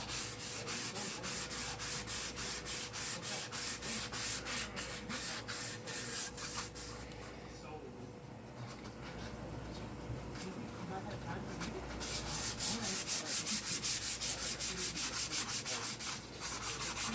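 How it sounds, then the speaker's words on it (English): Sandpaper rubbed with the grain across a J Bass guitar body being prepped for dye, steady rhythmic back-and-forth strokes up close, pausing to a softer rub midway before resuming, with someone talking over it. "Of course, you want to make sure you sand with the grain."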